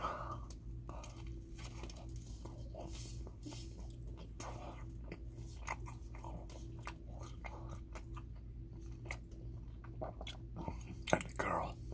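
Someone eating a D'Angelo's turkey sandwich up close, soft bites, wet chewing and occasional crinkles of the wrapper over a low steady hum, with faint whispery sounds.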